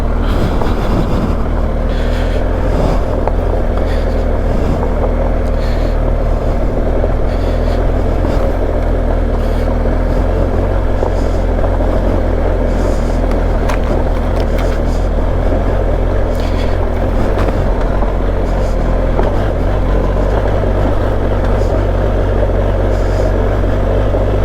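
A BMW R1250 GS adventure motorcycle is ridden with a loud, constant engine drone mixed with heavy wind rush, and the steady roar continues throughout with no break.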